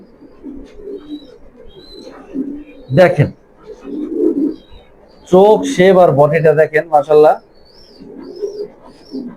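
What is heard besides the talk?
pigeons cooing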